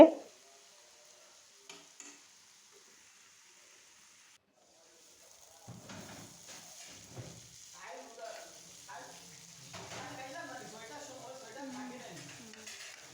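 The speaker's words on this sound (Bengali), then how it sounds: "কিছুক্ষণ পরপর নেড়ে চেড়ে দিচ্ছি।" Cauliflower-stalk bhaji cooks in a covered pan, starting with a loud lid clatter and a quiet stretch before a soft sizzle returns, broken by scattered scrapes of stirring, close and fairly faint.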